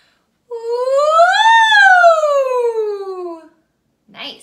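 Someone imitates a siren with their voice as a vocal exercise: one smooth glide rising to a peak and then sliding back down for about three seconds. It is close and clear, followed by a short breathy sound.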